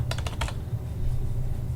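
Fingers tap a computer keyboard in a quick burst of four or five light clicks over a steady low room hum, then stop.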